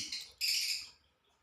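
Pet lovebirds kept indoors give a short burst of high, bright chirping, one brief call followed by a louder, denser trill that fades out within about a second.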